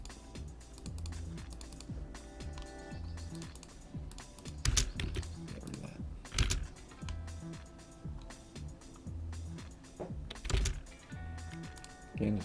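Keys clatter on a computer keyboard as AutoCAD commands are entered, quick irregular bursts of typing with a few sharper key hits, fairly close and quiet against a faint background hum.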